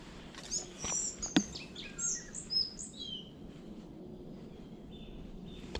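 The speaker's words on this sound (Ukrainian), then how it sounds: "пташки співають." Birds chirp and tweet in short bursts against a quiet, windless outdoor background at a fishing spot, several calls overlapping early on, then thinning out to a soft steady hush.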